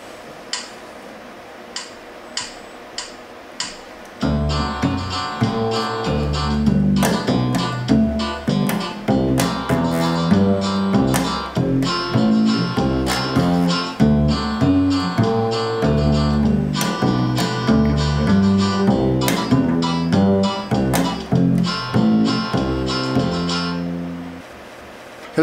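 Bass played in a bluegrass style on the tune Don't Let Your Deal Go Down in D, with a few light ticks followed by a steady run of plucked, ringing notes in an even rhythm that fades at the end.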